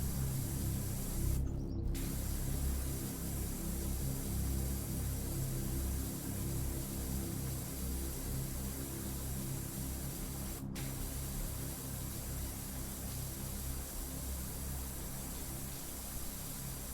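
A pressure washer in PowerWash Simulator 2 sprays steadily in a constant loud hiss with a low rumbling undertone, cleaning a gator-themed roller coaster, broken only by two brief cutoffs.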